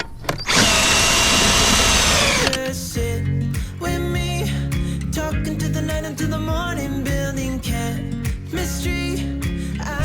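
A power drill raising caravan support legs whirs loudly and steadily, then continues in uneven bursts with the motor labouring and changing pitch, close up, at a truck parking area.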